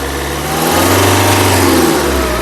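A 2015/16 Nissan Terrano XL SUV engine revs up close by, rising to a sustained roar with a brief dip before climbing again.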